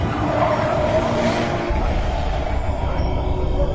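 A car drives along a deserted road through forest, its engine and tyre rumble loud and steady throughout, with no voices.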